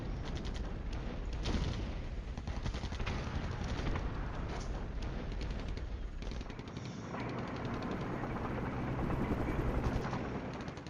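Helicopter and gunfire in the Cold War strategy game Flashpoint Campaigns: Cold War, a dense, continuous clatter of rapid shots over a rushing rotor-like roar, fairly faint and unbroken throughout.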